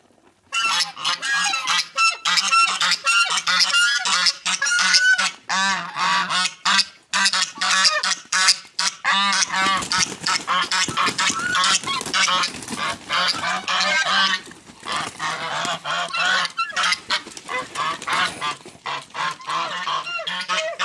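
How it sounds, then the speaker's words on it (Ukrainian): A flock of geese honks loudly and almost continuously, many overlapping calls close by forming a noisy, dense chorus. "Зараз гуси прийдуть, будуть ознайомлюватися."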